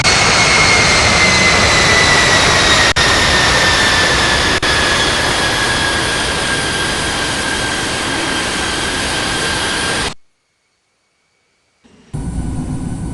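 Simulated Boeing 777-300ER jet engines at takeoff in the Infinite Flight game, a loud sustained roar with a slowly falling whine that cuts to silence, then resumes briefly.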